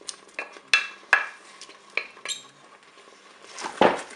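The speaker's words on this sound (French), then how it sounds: "Vous mélangez." A utensil stirs a thickened sauce with leek pieces in the metal bowl of a Cookeo pot, making sharp clinks and scrapes against the sides, with a louder scraping swirl at the end.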